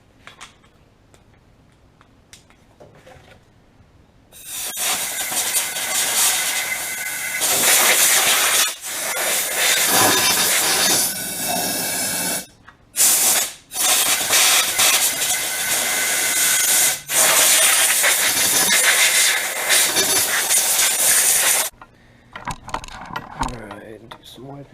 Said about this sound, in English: Just going to run some compressed air through it.